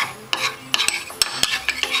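A fork stirs a thick paste of cornstarch, baking soda and water in a small dish, making close, crisp clinks and scraping taps against the dish in an irregular rhythm, with no voices.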